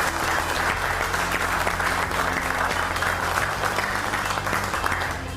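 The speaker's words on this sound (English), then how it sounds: "how about a big round of applause for our 4 guests?" Audience at a DetailFest 2011 motorcycle detailing class applauding four guests, loud continuous clapping from a roomful of people, steady throughout and tapering slightly at the end.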